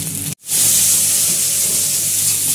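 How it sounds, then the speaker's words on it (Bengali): Spice paste with salt and turmeric sizzles loudly as it is stir-fried in a pan for a Katla fish egg curry, a bright steady hiss briefly cut off for an instant, then resuming close and strong. "ভালো করে দেখতে পাচ্ছ মশলাটাকে আমরা নেড়ে নেড়ে কষিয়ে নিচ্ছি"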